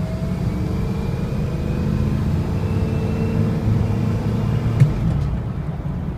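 A 2005 Ford F350 diesel 4x4 pickup with a turbo and a lift idles and runs steadily, a loud low rumble with a faint whine throughout and one brief clunk near the end.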